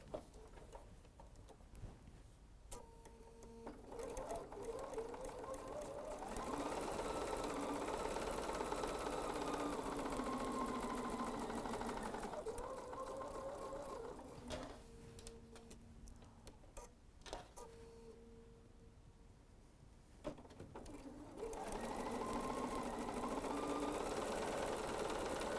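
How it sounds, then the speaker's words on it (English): A sewing machine chain-stitches quilt pieces along a marked line, running in long steady whirring stretches broken by a few short pauses, close and without talk. "We're going to be sewing on the line again."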